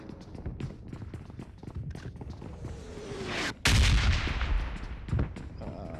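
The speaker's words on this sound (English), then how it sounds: "A lot of nades being thrown." Grenades going off in PUBG Mobile during a custom-room scrim match, with rapid gunfire and footsteps leading into a sudden loud, booming blast, followed by more shots and a rumbling tail.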